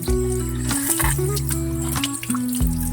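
Water gushes steadily and loudly from a newly repaired water line, a continuous strong flow with a few small shifts in pressure.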